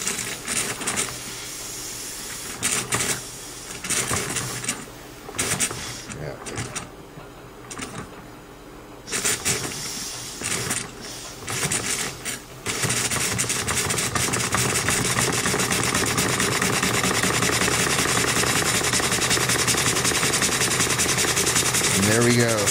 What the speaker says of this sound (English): 120 years, probably 130 years later, the engine comes to life.